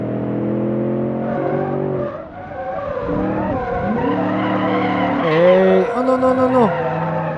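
A pickup truck drifts in the BeamNG driving game, its tires skidding and squealing in sustained bursts while the engine revs rise and fall. Someone talks over the sliding, and a sharper squeal comes near the end.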